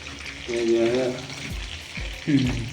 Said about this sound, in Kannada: ಎಲ್ಲ ಯಾವುದೋ ಒಂದು ತವಾದ ಮೇಲೆ ಇಟ್ಕೊಂಡು ಎಲ್ಲ ಫ್ರೈ ಮಾಡ್ತಾವ್ರೆ.